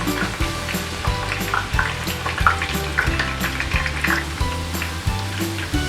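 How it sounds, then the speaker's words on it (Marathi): Onions frying in oil over high heat until golden brown for chicken dum biryani, a steady close sizzle with soft crackles and occasional stirring scrapes running the whole time, no talking. "आपल्याला गोल्डन ब्राउन कांदा करायचा आहे तळून"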